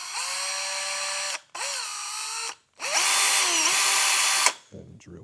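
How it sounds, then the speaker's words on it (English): A power drill boring a hole for a knob through plastic, heard as three whining bursts of the motor, the last one longest, each stopping abruptly, close and loud with no talking. "and then we can drill out our hole for the knob."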